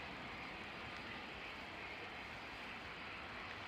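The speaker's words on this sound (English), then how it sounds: "Nice, that Cessna citation latitude, wasn't it?" A Cessna Citation Latitude business jet gives a steady, faint broadband engine roar at a distance, even and unbroken, with no voices.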